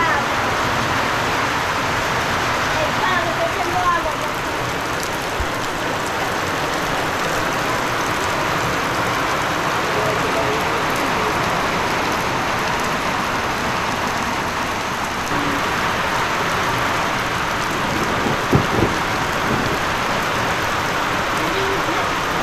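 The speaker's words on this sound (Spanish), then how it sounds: "cuando choca la lluvia con el techo, el zinc" Steady rain drums on a zinc roof in a countryside home, a dense continuous hiss that holds evenly throughout, with a few faint knocks near the end.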